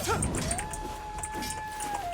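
Dogs whimper and yip in the video game Where Winds Meet, with a high, drawn-out whine held for about two seconds over steady background ambience.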